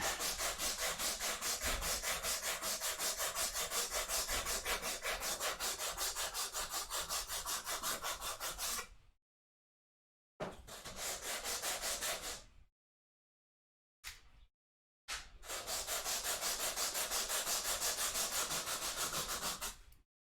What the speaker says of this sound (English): This is the most fun you will ever see on stream, is someone sanding wood.